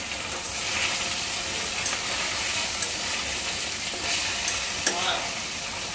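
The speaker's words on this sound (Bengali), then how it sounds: "গাইস এই যে এখন মাছ দিয়ে দিতেছে।" Fish frying in a pan of hot oil for a home lunch, a loud, dense, steady sizzle with faint occasional stirring clicks, close by, no speech.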